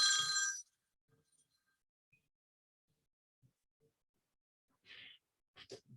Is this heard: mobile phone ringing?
yes